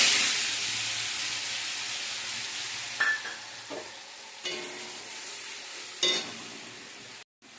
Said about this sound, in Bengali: আর তেলের মধ্যে তুলে দেবো পেঁয়াজ, রসুন আর টমেটো পেস্ট।